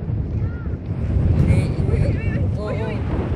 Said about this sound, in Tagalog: Malakas pong ihip ng hangin.